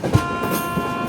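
Jan Shatabdi Express train rolling slowly along the track, a steady low rumble with faint wheel clatter close by, briefly and without voices.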